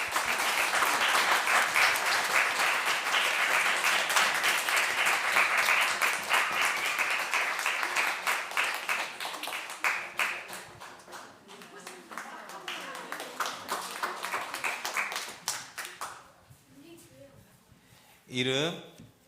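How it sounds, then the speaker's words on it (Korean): Congregation applause during a Sunday church service at Seongteo Church, a loud, dense crowd clapping that runs for about ten seconds, then thins and fades while someone speaks over it, with a brief burst near the end. "이민호 친구 크게 박수해 주십시오"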